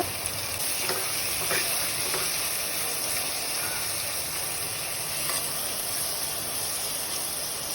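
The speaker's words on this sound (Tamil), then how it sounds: "ரெண்டு மீடியம் சைஸ் வெங்காயம் சேர்த்து நல்லா வதக்கிக்கோங்க" Two medium onions sautéing in a pan for a Coimbatore-style biryani masala, giving a soft, steady sizzle and hiss throughout with a few faint stirring scrapes.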